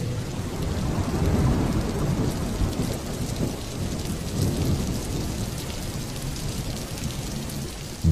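A thunderstorm with steady, heavy rain and deep rolling thunder that rumbles on underneath the downpour without a break, even and dense throughout, with no voices.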